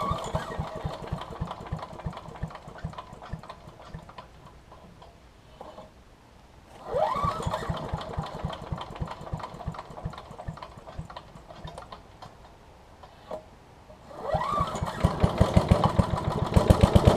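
An MTD Yard Machines wood chipper's small engine is pulled over several times, each attempt a brief loud burst, then chugs at a steady idle that grows louder toward the end.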